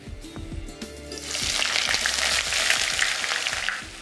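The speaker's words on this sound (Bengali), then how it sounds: "পেঁয়াজটা দিলে কি হবে দেখবেন খুব তাড়াতাড়ি ভাজা হয়ে যাবে পেঁয়াজগুলো" Onions dropped into hot oil for hilsa pulao, a few clanks at first, then a loud, dense hiss of frying that swells and holds steady close by, without any voices.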